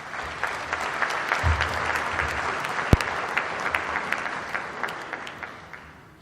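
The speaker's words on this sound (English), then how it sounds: "Let's give him another warm round of applause, please." A forum audience gives a sustained round of applause, dense clapping with a few sharp individual claps standing out, gradually fading toward the end.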